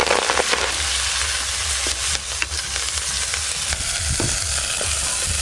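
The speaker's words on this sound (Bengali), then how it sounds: "এই যে মেথি পাতাগুলো ভেজে নেব।" Fenugreek (methi) leaves fry in a pan for a methi chicken dish, giving a steady, close sizzle with occasional scraping clicks of stirring and no talk.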